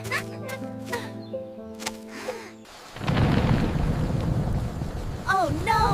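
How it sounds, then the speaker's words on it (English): Rain pouring down with rumbling thunder in a 3D animated farm scene in Vietnam, a loud steady downpour roar that bursts in after a quieter musical opening, with brief voices calling out near the end. "Rain! Rain! Quickly, to the shed!"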